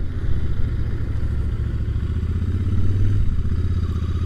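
A Royal Enfield Interceptor 650 motorcycle being ridden, its engine giving a steady loud low rumble with a brief rise in revs near the end, no talking.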